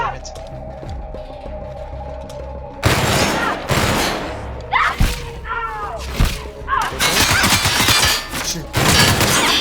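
Rapid gunfire from weapons in the video game The Outer Worlds, with loud bursts and volleys of shots, thuds and impacts in dense, overlapping stretches, and voices heard amid the shooting.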